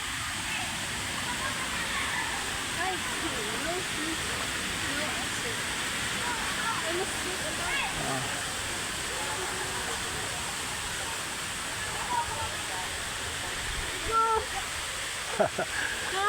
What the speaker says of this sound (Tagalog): Ito yung second layer ng falls.